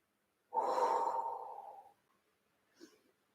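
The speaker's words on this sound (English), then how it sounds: "Staying here for 5 beautiful breaths" A single long, close exhale during a yoga forward fold, a soft airy breath lasting over a second and fading out, followed by a faint short breath sound in an otherwise quiet room.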